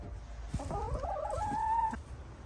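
Backyard hens cluck and give a drawn-out call while feeding, close and moderately loud over a steady outdoor background hum.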